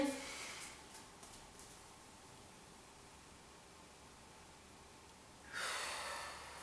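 Breathing during a postnatal stretching exercise: a soft exhale at the start, a quiet held pause, then a clear close inhale near the end.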